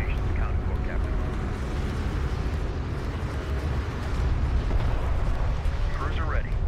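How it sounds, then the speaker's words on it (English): Sustained roaring rumble of a nuke explosion in the Deserts of Kharak video game, a dense continuous blast wash throughout with faint chirping game effects and speech over it. "Go ahead and launch a nuke."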